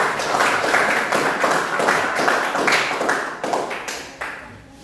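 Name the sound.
applause for group 3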